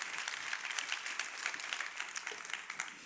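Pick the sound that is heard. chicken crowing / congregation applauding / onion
congregation applauding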